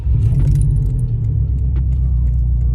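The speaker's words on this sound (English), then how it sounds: "I'm gonna start the car." A car engine idles right after starting, giving a close, steady low rumble with light jingling of keys near the ignition.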